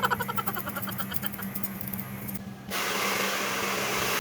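During a haircut, a steady hiss of hair spray starts partway through and continues evenly to the end, following a rhythmic pulsing tool sound and a brief quiet gap.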